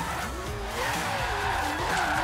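Car oversteering and skidding in Forza Horizon 3, a steady drifting tire squeal with wavering pitch over the engine note, continuous and fairly loud for about two seconds with no voices.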